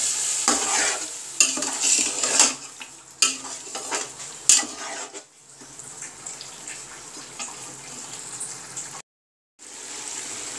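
Chicken being stir-fried in a pot for yakhni pulao, with frequent close metallic stirring scrapes and clinks over a continuous sizzle, busy and fairly loud, with a brief silent gap near the end and no voices.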